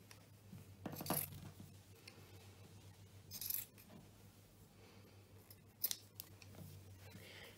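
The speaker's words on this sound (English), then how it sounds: "We'll go ahead and cut from the top to the bottom to cut out this large" Scissors snip through cloth while a large rectangle is cut out for a no-sew mask, three distinct crisp cuts spaced a few seconds apart over quiet room hum, with no talking.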